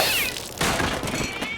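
A cat meows in a short, close, fairly loud call with a bright wavering tone, set against some background noise and a faint thump, with no speech.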